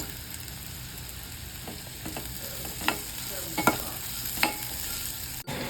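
Brinjal pieces frying in a hot pan while being stirred: a quiet, steady sizzle broken by a few sharp spatula clicks and scrapes, close by, with no talking.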